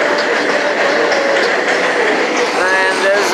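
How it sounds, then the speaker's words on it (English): A Bronx subway train rolls past at a backyard barbecue, a loud, steady rumble of wheels with a rising metallic squeal toward the end and no clear talk over it. "there's the subway here"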